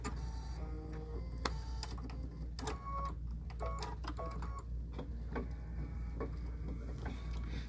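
A sewing machine stitches the stem of a fall quilted mug rug, a steady mechanical whir with repeated ticking clicks running throughout at a close, moderate level.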